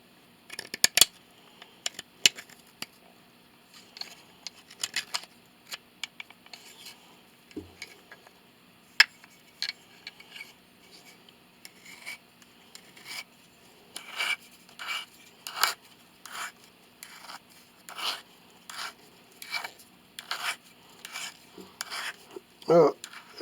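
Hand tools cut and shave wood while a five-string cello is made, with sporadic scraping strokes giving way to a regular run of rasping cuts toward the end, close and fairly quiet, no voices.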